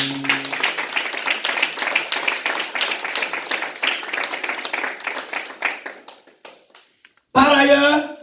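A church congregation at a Christmas service applauds and claps in a long, dense patter that slowly thins and fades, followed by a sudden loud burst of other sound at the end.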